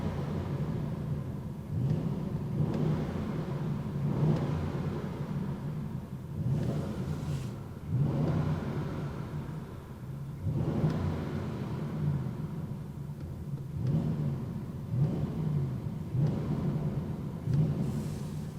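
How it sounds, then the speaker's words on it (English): A 2025 Audi RS7 Performance V8 engine revs repeatedly, each deep, booming rise-and-fall burst of exhaust roar coming every couple of seconds in a steady rhythm, heard close with no talking. "Let me just start by revving the engine."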